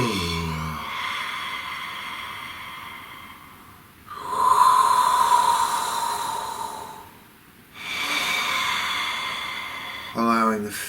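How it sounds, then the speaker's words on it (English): People in a guided relaxation exercise yawning and breathing out audibly, with long drawn breaths and exhalations, several in a row with short pauses between them. "let your jaw drop and yawn"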